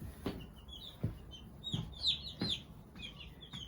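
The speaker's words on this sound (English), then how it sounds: "Got the heat lamp up for them. They all seem to be a couple thirsty." Newly arrived meat chicks under a heat lamp give high, thin peeps in quick clusters, fairly faint and close, with a few soft thumps and handling knocks among them.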